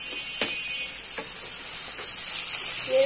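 Winter vegetables (cauliflower, tomato and potato) frying in a pan after the lid is lifted, a soft steady sizzle with a few sharp clinks and scrapes as they are stirred.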